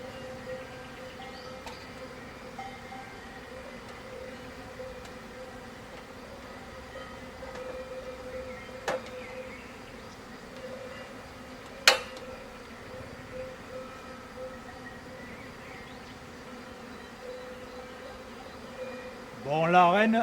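A honeybee swarm in woodland in Italy drones with a low, steady buzz held at a constant level, with a sharp click in the middle and a brief voice rising at the very end.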